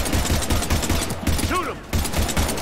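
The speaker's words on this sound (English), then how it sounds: "We're taking heavy fire" Heavy automatic gunfire from the video game Mass Effect 3 rattles in rapid, continuous bursts with a short lull, loud and close, and a brief voice cuts in partway through.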